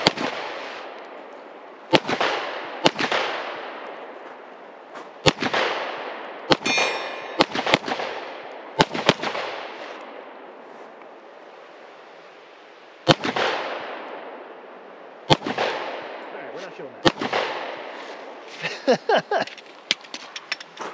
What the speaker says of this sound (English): We're gonna fire two mags and kind of show you guys, make sure it works, show you the reliability.